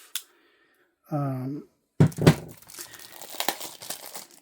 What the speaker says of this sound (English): If I could just cut this with my knife.